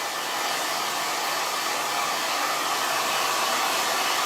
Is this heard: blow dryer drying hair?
yes